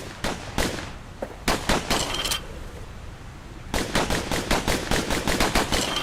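Dual slinger pistols firing in Bastion, sharp rapid bursts of shots with a short gap near the middle, then a long steady run of evenly spaced reports, loud and close.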